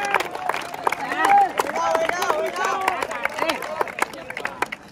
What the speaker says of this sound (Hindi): चल ताली बजाओ थोड़ा